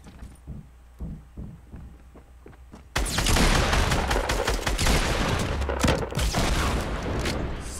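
Rapid gunfire bursts out in a Fortnite match after a few sparse thuds, a dense, loud, continuous volley that fills the last five seconds with no voices.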